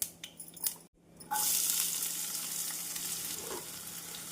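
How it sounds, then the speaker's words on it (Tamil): Chopped onions sizzle and crackle steadily as they fry in hot oil in a pan, following a few brief clinks and a short pause at the start. "கடுகு ஜீரகம் பொரியவும் நறுக்கிய வெங்காயத்தை சேர்த்து விடலாம்"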